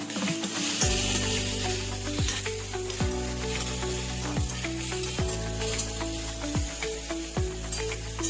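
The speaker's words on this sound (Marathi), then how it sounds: "हा मसाला भाजते तोपर्यंत" Ghee chicken biryani masala frying in a pan, a steady close sizzle and crackle throughout with repeated stirring knocks and scrapes at regular intervals, no voices.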